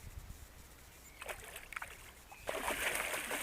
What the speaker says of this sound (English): Oh, he's splashing me.